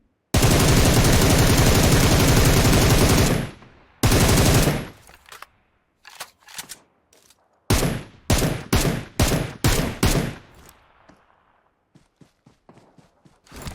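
Rapid automatic gunfire from PUBG Mobile, a long sustained burst followed by a short one, then a string of separate loud single shots and fainter distant pops, with no talk.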